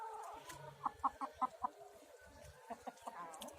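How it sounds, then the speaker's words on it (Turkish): A run of quick, close clucks from a flock of about 50-60 chickens, five sharp calls in a row, then a couple more a moment later over a quiet, muffled background. "Bayağı tavuk var ama burada. En az bir 50-60 tane tavuk var."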